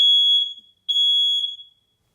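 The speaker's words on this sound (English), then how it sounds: "That was my smoke alarm testing itself" A household smoke alarm runs its self-test with two loud, piercing electronic beeps, the first a little under a second long and the second just under a second, separated by a short gap and heard alone in a quiet room.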